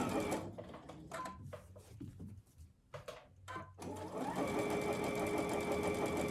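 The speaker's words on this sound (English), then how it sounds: "Then you want to make sure that your machine will backstitch that." A sewing machine stitches the pocket seam of a homemade fabric face mask, starting and stopping in short whirring bursts before running in a steady, close mechanical drone, with no talking.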